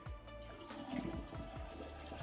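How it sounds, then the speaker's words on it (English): Soaking water poured off salted codfish for ackee and saltfish, a steady close splashing and trickling stream of liquid that runs on without pause, with no voices. "So, we'll pour off this water."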